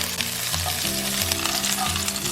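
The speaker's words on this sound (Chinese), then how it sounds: "加入葱姜炒香。" Scallion and ginger stir-fry in a little cooking oil in a wok, a steady close sizzle with scraping stirs running throughout, while a low tonal hum sits underneath.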